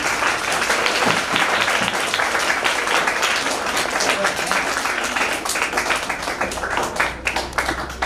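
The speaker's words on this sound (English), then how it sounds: "Give them a big round of applause, everyone." Sustained loud applause from a large audience at a school expo, dense steady clapping that carries on without a break.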